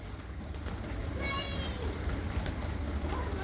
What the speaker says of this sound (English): Oh look, we actually have a train coming in.